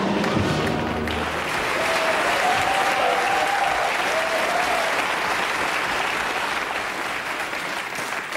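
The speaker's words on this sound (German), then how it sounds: "Was wir nicht wollen, ist dieser mitleidige Beifall, ne?" Studio audience applause on a German comedy TV show, dense sustained clapping that stays loud for several seconds and tapers slightly toward the end, with a brief voice at the start.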